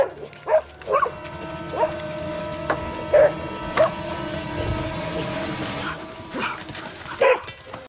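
Two dogs bark in scattered, loud outbursts as they chase a grizzly bear outdoors, with a steady droning hum running underneath.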